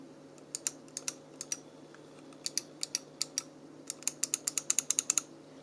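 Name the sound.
Gravastar Mercury M1 Pro gaming mouse micro switch clicks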